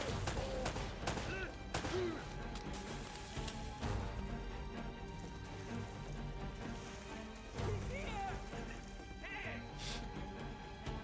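Gunfire in Uncharted: Drake's Fortune on PS4 comes in scattered bursts of shots and impacts over a busy game soundscape, with several sharp loud cracks mixed among fainter distant fire.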